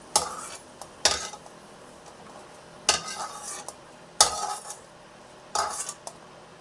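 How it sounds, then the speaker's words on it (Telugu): Pieces are stirred in hot ghee in a pan, with a spoon scraping and clinking against the metal in short bursts between quiet stretches of soft frying. "అలా వేయించుకొని అవి పక్కకు తీసుకోవాలి"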